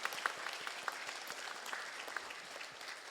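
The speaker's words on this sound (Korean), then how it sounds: "그분들에게도 박수 한번." Scattered applause from a retreat audience at a Lenten Taizé music gathering, fairly faint and sparse with individual claps standing out, continuing steadily for a few seconds with no talk.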